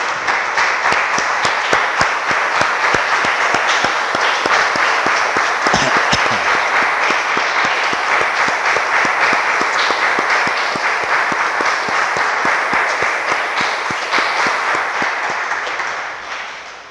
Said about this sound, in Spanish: Le damos un aplauso, hermanos, al Señor.